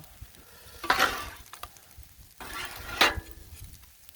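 Fried rice and beans are stirred on a Blackstone griddle. Two distinct scraping turns of a spatula are separated by a pause, over a low steady sizzle close by.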